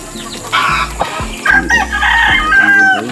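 Backyard chickens clucking and a rooster crowing nearby, with overlapping calls and bursts of cackling over a few seconds, loud and close with no talk.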